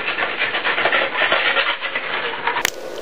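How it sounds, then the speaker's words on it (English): A trowel smooths packed refractory cement on top of a foundry extension, a steady scraping rub in repeated strokes, close and fairly loud, ending with a sharp tap. "Smooth the top of the extension with a trowel."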